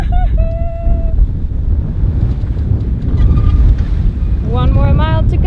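Steady wind rushing over the microphone aboard a sailboat at sea, a loud constant roar with water noise beneath, while people talk and call out over it.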